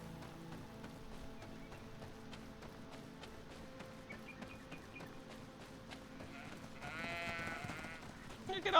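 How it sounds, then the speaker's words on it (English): Sheep bleat intermittently in a pastoral area of the video game Greedfall, several soft calls over quiet ambient game sound, with a few light hoof or footstep taps and a louder swell near the end. "Look at all these sheep."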